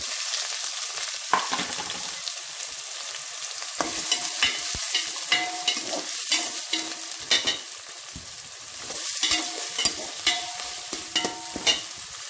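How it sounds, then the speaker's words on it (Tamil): Steady sizzling of onions frying in a pan, with scattered clinks and scrapes of stirring throughout, no voices. "ஆனியன் நல்லா ஃப்ரை"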